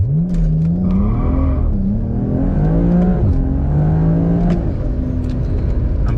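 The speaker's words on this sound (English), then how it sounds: "we're getting way too much wheel spin" A BMW E92 335i with the N54 engine launches hard, its loud engine note climbing and dropping repeatedly as revs surge and the wheels spin, close and continuous with no talking.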